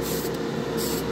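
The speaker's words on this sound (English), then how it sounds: "You don't want to spray from too far of a distance either" Tamiya lacquer flat primer sprayed onto a model body, a steady close airy hiss that runs unbroken with no talk.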